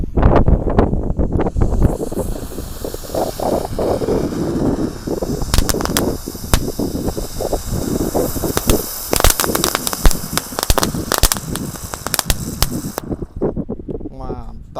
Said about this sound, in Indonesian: ini ada mercon teratai 1 pak, kita nyalakan semuanya ya.